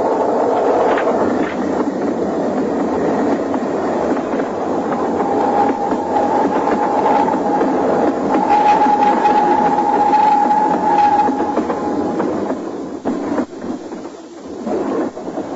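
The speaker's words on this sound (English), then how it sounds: "I have to see the train go by." A train rumbles past close by, loud and continuous, with rattling wheels, clacking rails and a sustained metallic squeal before it fades slightly, in a radio drama.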